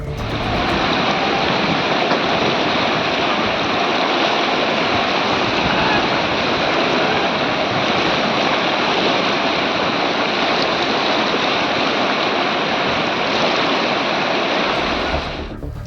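The Kamal river near Talda village in Uttarkashi rushes loudly and steadily, a dense continuous roar of turbulent water close by, with no voices over it.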